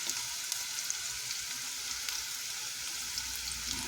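Thinly sliced onions for crispy Bengali jhuri pyaji fry in hot oil, giving a steady bright sizzle with small popping crackles, close and continuous with no talking.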